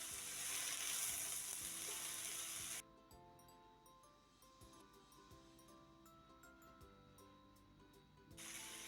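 Carrot cubes stir-fried with garlic, shallots and bird's-eye and curly chilies, a loud hiss for the first seconds, then softer sizzling with repeated scraping and clicking of a spatula against the pan, and the loud hiss returning at the end.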